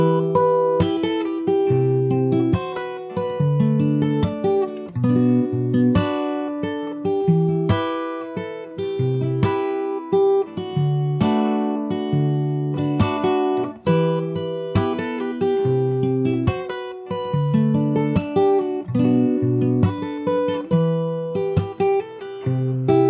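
Fingerstyle acoustic guitar plays a song verse, with plucked bass notes and chords in a steady rhythm. Percussive slaps mark the beat. The playing is close and clear, with no voices, for over twenty seconds.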